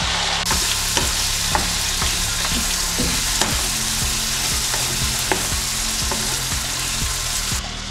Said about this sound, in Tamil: இப்போ இது நல்லா குழைய வதங்கணும், அப்போ தான் டேஸ்ட்டு நல்லாயிருக்கும்.